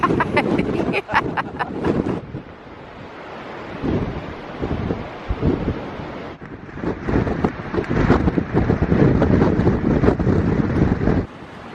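Gusting wind buffets the microphone on the Cornish coast while waves roll and surge in the background, with a person talking intermittently over the blustery rumble.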